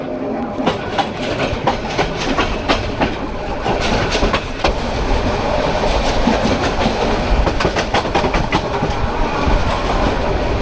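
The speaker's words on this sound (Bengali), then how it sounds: "এই ট্রেনটা হয়েছে Karnaphuli commutator town train number চার" Karnaphuli Commuter local train on its run out of Dhaka toward Narsingdi, with steady wheel-on-rail rumble and repeated clickety-clack of the carriages, heard close from on board and growing fuller about halfway through.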